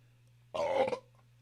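A single short, loud, close burp with a rough, voiced tone stands alone over a low steady hum.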